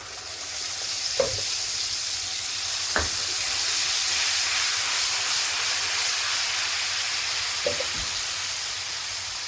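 Turmeric, red chilli and tomato puree sizzle in a hot pan for pav bhaji, a loud, steady frying hiss with a few faint clinks of a utensil against the pan.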